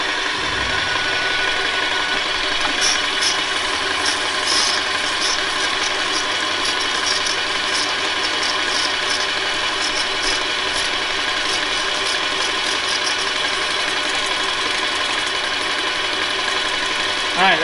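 A steady mechanical whir and rhythmic clatter of a 440 paint sprayer pump building to 3,000 psi, running continuously, loud and close, with no talking.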